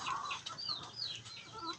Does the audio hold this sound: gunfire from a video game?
no